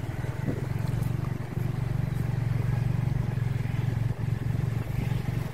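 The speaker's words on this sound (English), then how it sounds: "I'm just going through the Siem Reap city now in a tuk-tuk" A motorised tuk-tuk hums and rattles steadily along busy Siem Reap city streets in Cambodia, a constant low engine drone with clatter that runs throughout.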